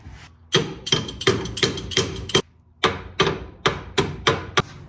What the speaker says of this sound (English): I'm also doing this with a pipe wrench